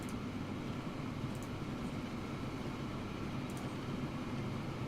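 A train in the Transport Fever railway building game rumbles steadily with a continuous broadband roar and low clatter, moderately loud and unbroken throughout, with no voices.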